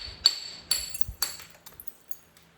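Stone strikes while beveling the edge of a Georgia chert spall in flintknapping: a few sharp, clinking taps in quick succession followed by softer scraping ticks, close and fairly quiet.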